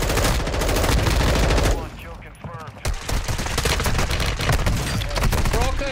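Rapid automatic gunfire from a video game shooter rattles loudly in dense bursts, pauses briefly with scattered shots and chatter of voices, then resumes with fast repeated fire.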